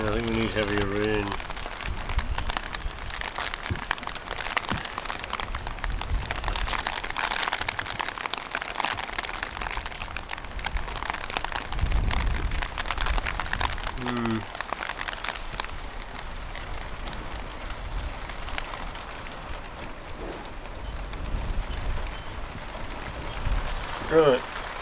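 Light rain patters steadily on and around a Land Rover Discovery 2, a continuous soft hiss of drops, with brief voices breaking in now and then.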